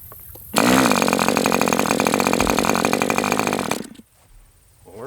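Enya 40 TV glow-fuel model airplane engine on a heat-cycle run, bursting into a loud, high-pitched buzzing whine close by, holding steady for about three seconds, then cutting out abruptly into near silence.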